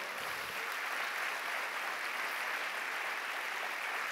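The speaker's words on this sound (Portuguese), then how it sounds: "Dá uma salva de palmas ao Senhor." A church congregation applauds during a worship service in Osasco, São Paulo, a steady, dense wash of clapping that fills the whole stretch without a break, with no voices standing out above it.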